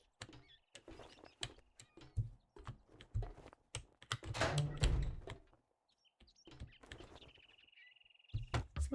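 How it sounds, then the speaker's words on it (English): Bursts of computer keyboard typing during a streamed 7 Days to Die session, irregular clusters of fairly close clicks with a few louder thunks and short pauses between them. "So I feel like you can hear my keyboard a little bit."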